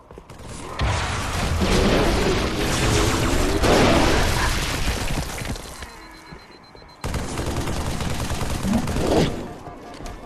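Rocket launcher blasts and explosions against Flood combat forms in Halo 3 on Legendary, loud booming bursts layered with gunfire and debris, two long dense stretches separated by a brief lull.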